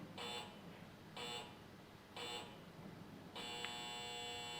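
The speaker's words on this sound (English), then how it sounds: "Buzzer goes off, but he's absolutely fine" A shot clock buzzer sounds at a pool match in four repeated harsh electronic blasts, each lasting about a third of a second at roughly one-second intervals, with the last one held longer over steady hall ambience.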